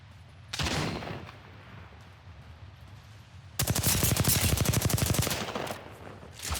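Video game gunfire rattles in a short burst, then breaks into a long, rapid automatic volley of close, sharp shots.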